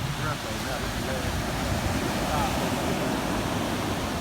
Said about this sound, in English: I don't know if y'all done seen the Trinity River with waves